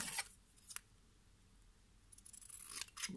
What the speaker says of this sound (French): on va prendre du scotch, on va couper